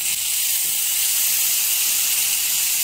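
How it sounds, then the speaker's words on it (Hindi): Masala frying in hot mustard oil for a Bengali fish dish, a loud, continuous close hiss and sizzle that holds steady throughout. "तो मसाला मेरा कुक हो रहा है"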